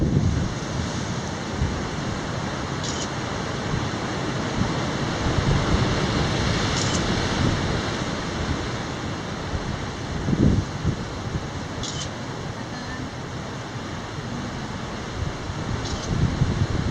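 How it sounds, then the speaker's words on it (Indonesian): Ocean surf on the shore at Tapaktuan, a steady, dense roar of breaking waves with wind buffeting the microphone throughout, no voices. "Ombaknya ngeri ya."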